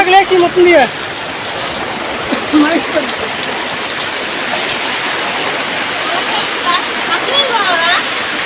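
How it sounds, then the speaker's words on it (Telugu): Heavy rain pours onto a village house and leaks indoors, a dense, steady wash of water noise broken by a few louder splashes near the start, with brief voices over it. "వానంతా లోనకు వచ్చేస్తుంది, అసలు మామూలుగా రావట్లేదు వాన"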